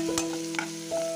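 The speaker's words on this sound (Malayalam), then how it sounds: "നല്ലതുപോലെ ഇളക്കി യോജിപ്പിക്കുക." Ginger garlic paste and green chilli stir-frying in a pan, a brief steady sizzle with a couple of spatula scrapes, close by.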